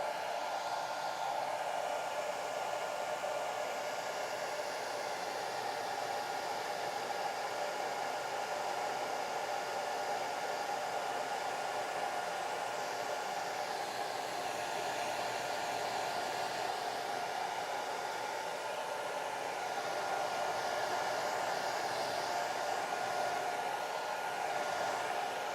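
A hair dryer blows steadily on a wet watercolor landscape painting, a loud, continuous close-up whoosh that holds unchanged for the whole stretch with no voices.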